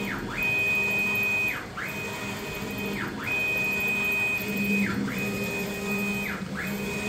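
A 6090 UV printer printing a 24-inch-wide image, its print head carriage sweeping back and forth in steady passes, each with a bright whine and a short swish at the turnaround, over a constant low machine hum.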